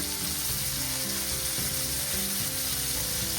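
Steak searing in a hot pan for a steak frites dinner, a loud, even hiss of sizzling fat heard close up without a break.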